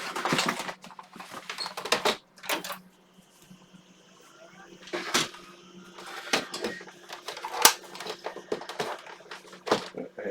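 Keys clack on a replacement keyboard for a 1990 IBM PS/1 286 PC, scattered sharp taps and short bursts of clicking with quiet stretches between them and a low electrical hum beneath.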